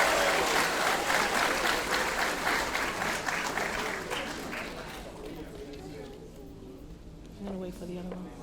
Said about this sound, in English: Let's give our awardees another round of applause